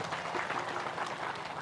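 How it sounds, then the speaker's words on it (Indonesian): An audience breaks into applause, a dense steady patter of many hands clapping at moderate distance, fairly faint and continuous throughout. "Tepuk tangan sekali lagi."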